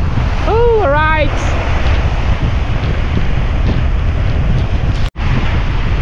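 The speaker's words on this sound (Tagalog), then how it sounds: "malakas ang alon." Strong sea waves at open sea aboard a boat caught in stormy weather, a loud continuous roar of surf and wind buffeting the microphone, with a brief voice early on.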